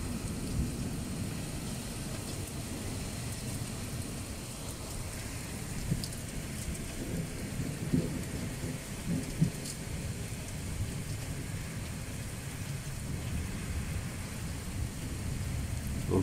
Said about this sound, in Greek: Αρχίζει και δυναμώνει η βροχή.